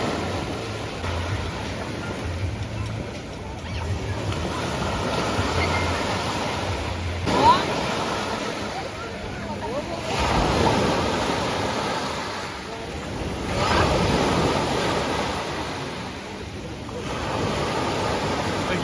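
Sea waves rolling onto a beach on a rough day, a continuous broad surf wash with slow swells rising and falling, close and fairly loud with some wind on the microphone.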